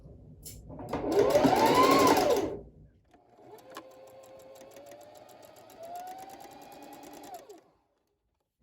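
A sewing machine stitches a pocket to the side seam of a tie jacket. A loud, fast burst of stitching comes first, then a quieter, steadier run of stitching that fades out, close up with no talking.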